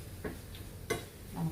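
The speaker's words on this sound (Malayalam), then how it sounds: "അപ്പോൾ കടുക് പൊട്ടിച്ച്" Mustard seeds crackle in hot oil for a Kerala mango pulissery, three sharp, separate pops spaced apart over a faint sizzle, quiet and close.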